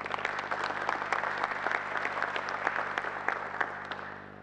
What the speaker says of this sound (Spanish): recibamos a Gustavo con un fuerte aplauso